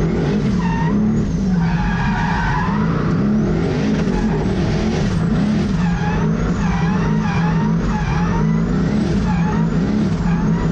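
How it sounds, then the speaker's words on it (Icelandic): A race car skids and revs hard around a track at the Gatebil motorsport event, its engine note rising and falling in a loud, continuous roar with tyre noise throughout. "þannig erum við komin borð hjá honum Fannari í sinni fyrstu ferð á bílnum og þetta var illa glæsilegt að horfa á hann hvað hann náði strax tökum á bílnum"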